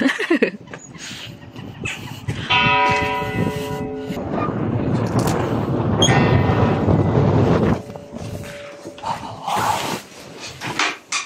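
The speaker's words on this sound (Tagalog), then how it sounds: "Oh, tumunog na yung bell." Church bell of the Lutheran church in Askola, Finland, ringing repeatedly with long resonant tones that swell and layer over one another before fading, heard close and loud from outside.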